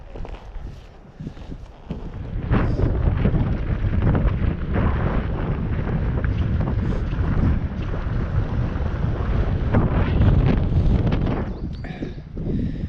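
Wind buffets a rider during a winter gravel ride in Scotland, loud gusty rumble and roar that swells after the first couple of seconds and eases near the end.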